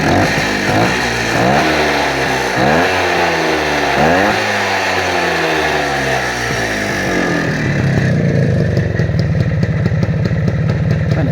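A motorcycle engine revved up repeatedly in rising and falling surges, loud and close, before settling into a rough, clattering idle, no speech.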